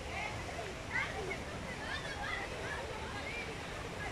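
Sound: outdoor shower running by a swimming pool

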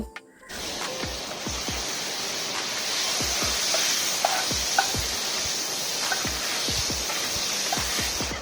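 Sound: chopped tomato added to onions frying in a pan

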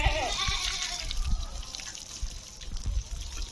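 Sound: water washing a bamboo stick for the Gudi Padwa festival

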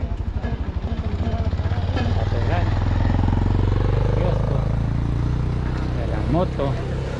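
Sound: motorcycle passing in the street

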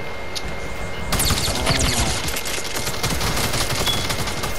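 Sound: gunfire in a video game

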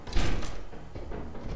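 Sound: door in Lethal Company video game, locked

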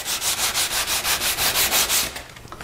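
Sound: sanding wood with sandpaper

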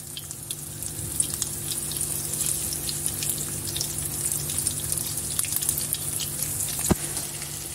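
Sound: eggplant slices frying in hot oil in a pan

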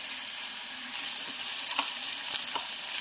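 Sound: frying green chili paste for chicken curry

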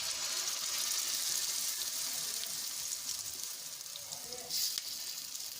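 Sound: handvo batter sizzling in hot cumin sesame curry-leaf tempering

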